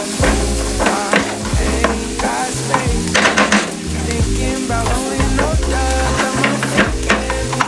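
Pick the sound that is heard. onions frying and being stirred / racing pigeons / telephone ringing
onions frying and being stirred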